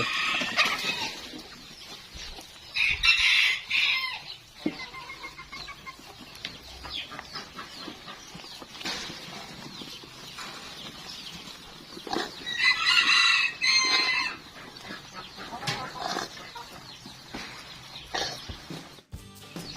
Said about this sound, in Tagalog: Pati manok nakikiagaw eh